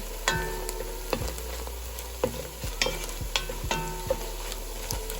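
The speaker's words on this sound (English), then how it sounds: "And I'm going to add some garlic in here." Chopped garlic sizzles in a pan with softened vegetables for an okra, corn and tomato dish, giving a soft steady hiss. A spoon scrapes and taps the pan in repeated knocks, several sharp clacks spread across the stretch.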